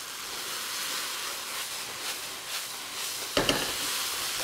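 Super crispy deep-fried tofu warming through in sauce in a hot pan, giving a steady, soft sizzle and hiss, with a brief louder clatter near the end and no talking.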